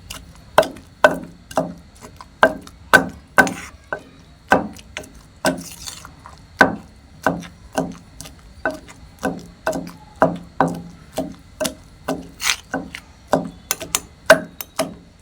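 Steady rhythmic pounding of a stone pestle in a mortar, crushing gongura chutney with onions, about two thuds per second, close and fairly loud, with no talking.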